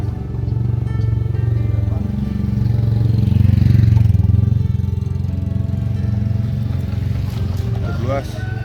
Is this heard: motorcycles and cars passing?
yes